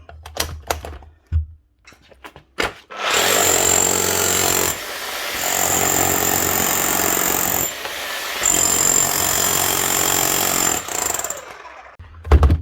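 A restored Makita HR4011C rotary hammer drill hammers loudly in two long bursts with a brief pause between, preceded by some clicks and handling noise.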